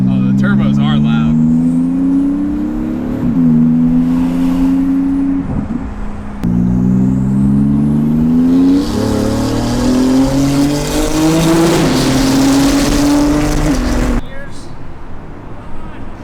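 Porsche GT2 RS turbo car accelerating hard through rising gear pulls, with its loud engine note climbing and dropping between shifts and a roaring intake and turbo rush, heard close from on board with speech under it.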